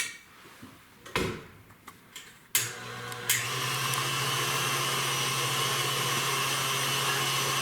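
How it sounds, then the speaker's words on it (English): An electric mixer creams butter for a chocolate raspberry buttermilk pound cake. A few clicks and knocks come first, then the motor starts with a jolt and settles into a steady, loud whirring hum. "So we're going to start creaming the butter for about 30 seconds"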